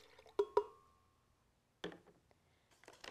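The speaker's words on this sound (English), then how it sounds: "I'm going to start by pouring 1 cup of vanilla almond milk into my blender." Vanilla almond milk is poured into a blender in a few short splashes and drips, quiet and close, with a pause between bursts.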